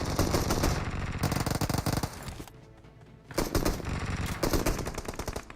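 Loud, dense gunfire from the BGMI mobile battle royale, with a shotgun in hand, rattles in rapid bursts, drops into a brief lull, then erupts again in close, continuous volleys.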